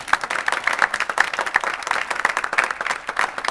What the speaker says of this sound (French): Pouvez-vous applaudir?